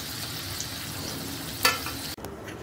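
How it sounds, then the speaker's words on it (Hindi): Wheat flour and potato snack deep frying in hot oil, a steady close sizzle with a brief sharper crackle near the end and no talking. "बहुत अच्छे से फ्राई हो गया है और इसी तरह से हम सारा फ्राई करके निकाल लेते हैं"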